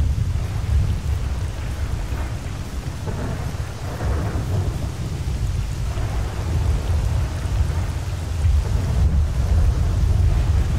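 Rain and rolling thunder in S.T.A.L.K.E.R. Call of Pripyat, a heavy low rumble under a steady rain hiss, loud and continuous without speech.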